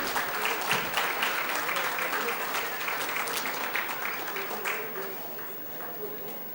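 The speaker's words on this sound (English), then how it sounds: "Let's have a huge round of applause, ladies and gentlemen." An audience claps at a convention's valedictory session, a dense sustained round of applause from a large hall crowd that slowly thins toward the end.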